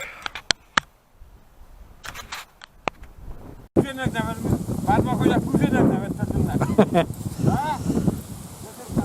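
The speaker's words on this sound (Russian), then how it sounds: "тут ветер страшный" Strong wind buffets the microphone with a loud, rumbling roar, preceded by a few sharp clicks and brief quiet; a voice speaks under the gusts.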